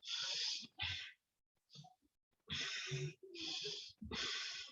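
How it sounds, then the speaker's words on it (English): Deep, long breaths drawn in and pushed out during a seated yoga stretch, heavy airy rushes in close succession with short pauses between, near and fairly loud. "deep long breathe in, deep long breathe out"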